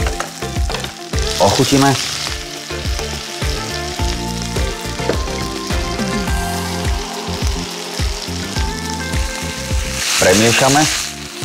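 Garlic and drained, blanched vegetables sauté in a hot pan with a loud, steady sizzle and crackle, broken by stirring scrapes; close and continuous, with a brief spoken word or two over it.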